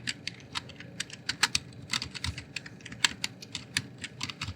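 Rapid computer keyboard typing while entering code, a dense run of crisp key clicks at an uneven pace, close and fairly quiet with no talking.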